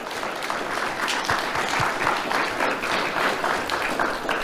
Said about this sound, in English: please give them a round of applause for being here to support you.